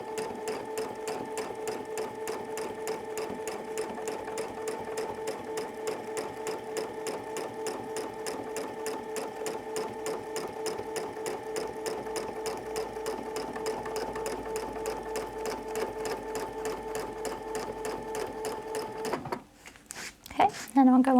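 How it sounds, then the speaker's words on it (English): A sewing machine stitches a quilt in a steady, fast, continuous mechanical rhythm for about nineteen seconds, then stops abruptly with a few brief clunks at the end. "So I'm going to take a couple stitches just to secure where I am because I'm starting out."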